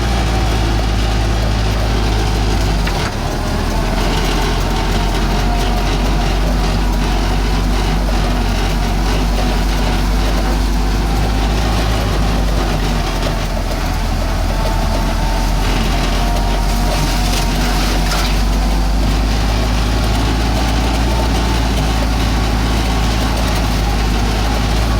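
A Willys M38A1 jeep engine runs steadily in four-wheel drive, a constant low rumble with no breaks, close and loud throughout and with no talk.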